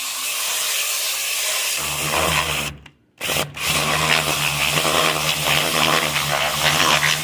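A drill spins a hone inside a small engine cylinder to scour out rust, a loud continuous whirring grind that cuts out briefly mid-clip, then resumes steadily.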